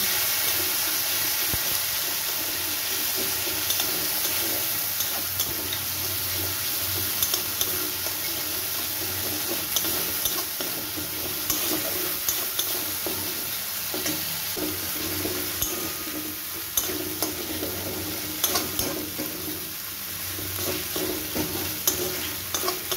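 Ginger paste frying in hot oil with crushed garam masala in a wok for Kashmiri aloo dum, giving a steady close sizzle with stirring scrapes and small pops throughout, no voices.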